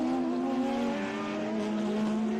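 A Ferrari race car passing at speed in a SpeedTour race at Virginia International Raceway, its high engine note loud and steady, dipping slightly as it goes by.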